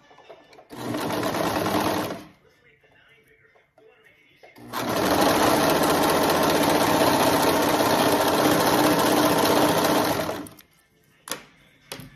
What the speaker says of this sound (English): we're going to put sides together, and we're going to sew the sides